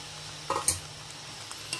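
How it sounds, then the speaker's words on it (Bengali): Fried paneer stirred into palak paste in a cooking pan: a low steady sizzle with a few brief scraping clinks of the spoon against the pan, close and fairly quiet. "এখন এটা এভাবে মিক্সড করে 2 মিনিট রান্নাটা করে নিলেই রেডি হয়ে যাবে পালং পনির"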